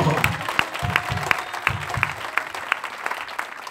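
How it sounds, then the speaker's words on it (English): A church congregation claps together in a steady, rhythmic beat, loud and close, with thumping beats and a faint voice underneath. "Oh, clap unto the Lord."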